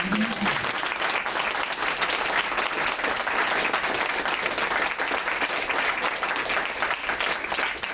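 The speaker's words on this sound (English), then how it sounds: "I think another round of applause." An audience at an award ceremony for whistleblowing prizes applauds, a dense, steady, even clapping that fills the whole stretch without letup.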